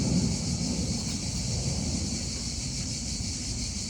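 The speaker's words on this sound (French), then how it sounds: "La tempête, elle se déchaîne." A raging storm sound effect plays as a steady, dense wash of wind and rain with a low thunder rumble. It stays loud and constant the whole time, and no one speaks.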